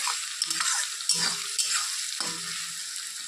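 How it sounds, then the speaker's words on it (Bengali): Bay leaf, dried red chilli, cumin seeds and onion frying in hot oil for a chicken curry, giving a bright continuous sizzle with a few stirring scrapes, close and alone. "তেজপাতা শুকনো লঙ্কা সাদা জিরে আর পেঁয়াজ তেলে ফোড়ন দিয়ে এখন ভেজে নিচ্ছি"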